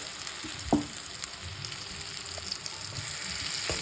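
Fried okra is added to oily masala in a hot pan, giving a steady, close crackling sizzle with a soft thump and a few light stirring scrapes.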